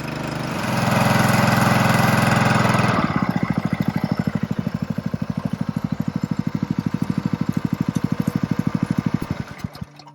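A 7hp Benchmark water pump engine starts with a steady roar, then settles into a loud, close, rhythmic chugging run with rapid even pulses that continue until it cuts off near the end.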